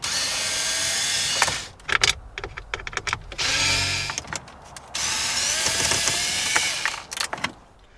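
A power tool removes the four 7mm screws holding the infotainment screen in a 2016 Ford Mustang, running in several loud whirring drill bursts with short pauses between them.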